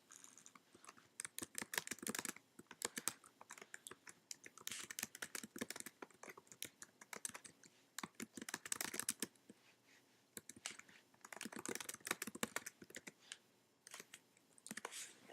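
Rapid clicking of typing on a computer keyboard while entering lines of HTML, bursts of keystrokes in an irregular rhythm with short pauses between, close and fairly quiet, no talking.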